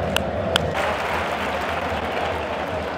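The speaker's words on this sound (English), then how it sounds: "It's a flamenco way of clapping because of the flamenco origins here in Seville." Stadium crowd at a football match in Seville clapping in flamenco style, toca las palmas, a dense steady wash of many hands from across the stands with a couple of sharper nearby claps standing out early on.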